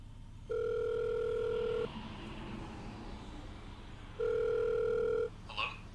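A telephone ringback tone sounds during an outgoing call, heard as two steady beeps about three seconds apart, over the faint rumble of a moving car.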